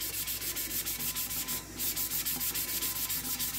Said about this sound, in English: we're just gonna do a nice light sand over the entire tumbler